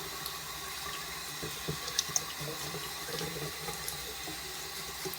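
Lukewarm tap water runs steadily onto a shaving brush's bristles at a sink before a straight razor shave, a continuous close hiss with a few small splashes.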